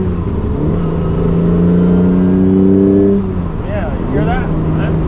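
A car engine revs up with a rising, deep rumbling exhaust note, holds, then drops back, followed by a lighter rev blip; close and loud.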